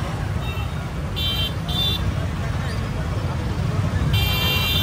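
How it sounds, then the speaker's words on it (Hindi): Car horns honking in a traffic jam in Siwan, Bihar, several repeated toots near and far over a constant roadway rumble, with a voice talking underneath. "ट्रैफिक हमारा पीछे नहीं छोड़ रहे गाइस"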